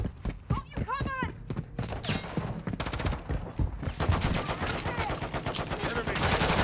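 Rapid bursts of gunfire crack through a Call of Duty: Modern Warfare III match, dense and close, with shouted game voice lines over the shooting.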